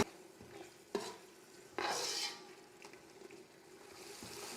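A tomato and green herb paste sautéing in a pan for chicken biryani, with a quiet background sizzle, a few sharp stirring scrapes and one louder burst of frying, no talking.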